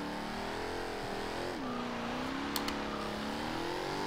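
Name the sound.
2015 Jaguar F-Type R Coupe accelerating in Forza Horizon 2 video game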